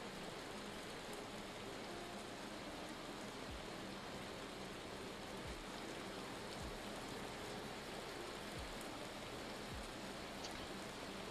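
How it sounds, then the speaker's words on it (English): Rain in the video game Vintage Story falls as a steady, dense hiss that covers the whole clip, with a few soft low thuds scattered through it and no voices. "Still surprised that it's currently raining"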